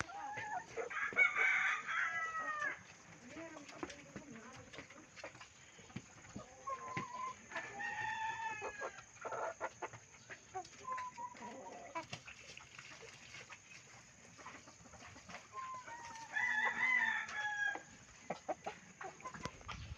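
A flock of broiler chickens kept by a farmer clucks steadily throughout, with several loud crowing calls rising near the start and again toward the end, close by and with no talking.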